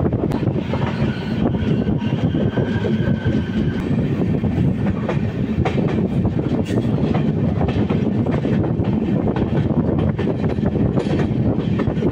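The Sealdah–Balurghat Express, hauled by a WB7 locomotive, rumbles steadily along the tracks, its dense low roar and clatter continuous throughout, with some wind buffeting the microphone.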